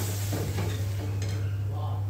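Water poured into a wok of sizzling spice paste for a Bombay duck curry sets off a loud, continuous hiss and bubbling, with a steady low electrical hum underneath.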